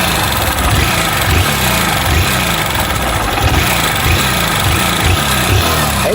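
A 160cc motorcycle engine with a worn cylinder kit revving close up, loud and continuous with a rough, rhythmic knocking pulse running through it, alone without talk.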